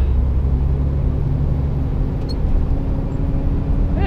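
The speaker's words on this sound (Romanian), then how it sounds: "E ceva tonaj, dar trage camionul destul de bine." A truck pulling a 16-ton trailer on a Spanish road gives a loud, steady low engine drone with rumbling road noise throughout, close and continuous, with no voices over it.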